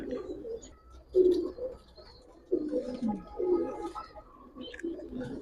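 Giribaj pigeons coo softly and repeatedly nearby, low rolling calls overlapping in a continuous murmur.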